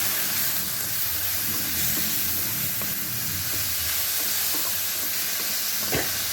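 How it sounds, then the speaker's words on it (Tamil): Onion, garlic and tomato sauté in a pan with fried urad dal for an instant sambar, giving a steady, close sizzle with occasional stirring scrapes throughout. "நல்லா வதக்கிக்கலாம்"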